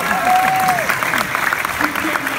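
Audience applause at a MegaCon 2017 convention Q&A panel with a guest, a steady wash of clapping filling the room for about two seconds while a voice talks over it.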